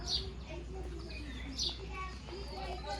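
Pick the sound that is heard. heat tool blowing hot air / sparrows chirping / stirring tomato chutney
sparrows chirping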